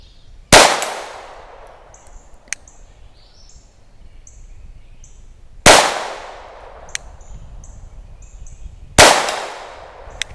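Three loud, sharp shots from a Taurus TX22 .22 pistol, each a sudden crack with a ringing tail, spaced several seconds apart, with faint metallic pings from rounds striking a steel target and birds chirping between them.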